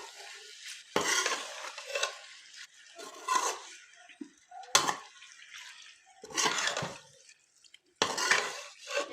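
Boiled macaroni being stirred into chicken masala in a pan for chicken macaroni with vegetables, several close, uneven scraping and squelching bursts of spoon against pan with short pauses between them, no talk.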